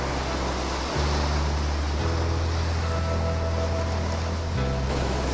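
Ocean waves wash steadily on the shore of a sunlit seascape, a constant loud rush of surf with deep low rumbling swells surging at about one and two seconds and again near the end, no voices.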